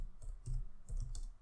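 Several soft keystrokes on a computer keyboard as a Terraform plan command is entered in a terminal, close and faint over a low background hum.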